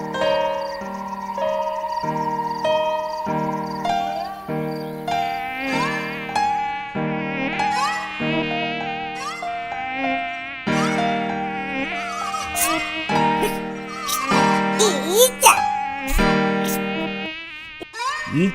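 In an animated cartoon, a fly's buzz rises and falls in a wavering drone over a run of chiming, bell-like tones that ends with a few sharp bright hits; no talking.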